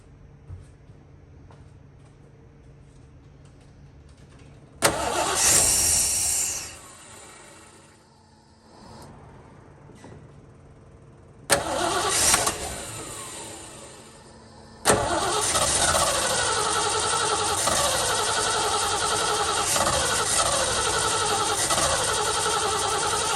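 A 1970 Ford Bronco that sat unused for years cranks and catches, sputters and dies, cranks again, then settles into a steady, loud idle for the final stretch, with no talking.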